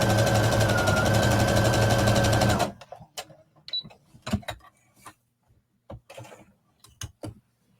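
A home sewing machine stitches a jacket in one steady, fast mechanical whir, working backwards and forwards before stopping. Scattered clicks and handling taps follow.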